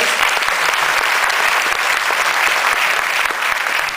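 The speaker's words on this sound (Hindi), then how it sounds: "एक round of applause for him" A roomful of people gives a dense, sustained round of applause for a man after his heart attack testimony, loud and continuous with no voices over it.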